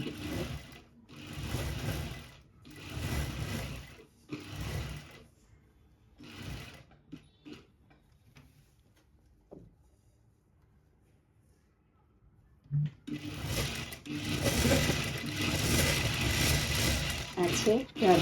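A sewing machine runs in several loud bursts while a fancy sharara top neckline is stitched. Speech sits between the bursts, then there is a quiet stretch, then a long steady run of stitching to the end.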